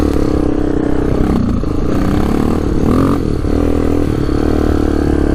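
A Yamaha Warrior motorcycle with a newly fitted piston being broken in rides steadily in second gear at easy throttle, its engine a loud, continuous close drone with some rattling and wind noise.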